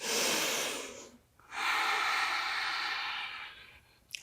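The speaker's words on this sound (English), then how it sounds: "Deep breaths." Deep yoga breathing: a long airy exhale, a short pause, then another long steady breath close to the mic, calm and unhurried with no talking.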